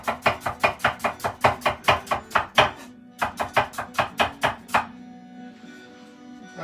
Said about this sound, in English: Some fine chopping action.